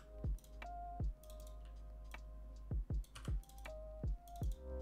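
Keyboard and mouse clicking while working in Blender, with sharp, close, isolated clicks in an irregular rhythm, often in quick pairs, over a steady low hum and no talk.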